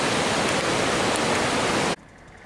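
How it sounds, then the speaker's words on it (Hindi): A fast-flowing mountain river on the road to Astore roars as a loud, steady broadband rush that cuts off abruptly near the end, leaving only faint background noise. "चेक करें पानी का बहाव, बड़ी स्पीड से पानी आ रहा है इधर"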